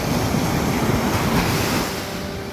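Ocean waves wash steadily onto the seashore at Ocean Park, Puerto Rico, a loud continuous roar of surf with wind buffeting the microphone, fading slightly toward the end.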